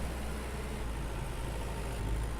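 A tractor engine idles and rumbles in the farming game Farmer's Dynasty, a steady low drone that stays even and continuous, fairly loud and close with no voices.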